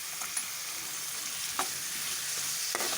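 A carrot and green pea curry is stirred in a pan over a steady, close sizzle, with a few distinct scraping strokes of the spoon against the pan. No one speaks.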